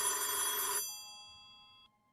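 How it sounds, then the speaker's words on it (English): A telephone bell rings once in a horror video game, a loud, bright, close trill that stops abruptly and leaves a faint ringing tail fading into silence. "The phone's ringing."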